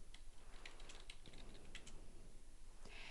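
Soft, quick keystrokes on a computer keyboard, an irregular run of light clicks with brief pauses, faint and close against a low hiss.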